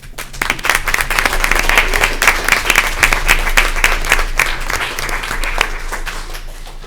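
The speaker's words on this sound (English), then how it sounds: "I'd like to applaud their parents at this time" Audience applause at an evening season-end sports team ceremony, honoring the players' parents; steady, dense clapping from a crowd filling the room, sustained throughout without speech.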